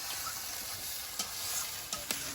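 Ridge gourd peel with black cumin fries in a pan, a dense, steady sizzle close up, punctuated by a few sharp scrapes and taps of stirring.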